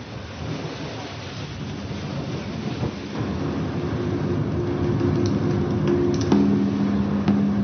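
Heavy rain pours steadily in the coastal Algerian town of Jijel, a dense broadband wash that grows slightly louder over time, with distant rumbles suggesting thunder and a faint low hum entering toward the end.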